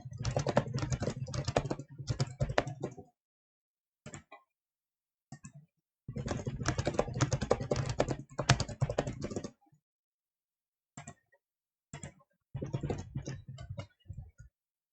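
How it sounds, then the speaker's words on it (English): Computer keyboard typing indoors, heard close and fairly loud in several bursts of rapid clicking separated by short silences and a few isolated keystrokes. "Keyboard go clickety clack."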